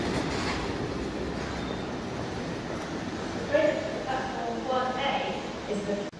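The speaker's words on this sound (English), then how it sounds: "Pulling in now is a terminating East Midlands Railway service from, I do believe it's Mansfield Woodhouse." East Midlands Railway passenger train pulling in to terminate at Nottingham station, a steady close rumble of wheels and carriages with faint squeals of brakes, heard under someone talking.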